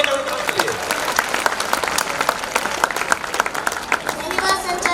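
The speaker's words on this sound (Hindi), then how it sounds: "एक बार जोरदार ताली नन्हे मुन्ने कलाकार के लिए" An audience at a school's annual function claps enthusiastically for a young child who has just recited a poem, with crisp individual claps blending into a lively, fairly close ovation that holds steady throughout.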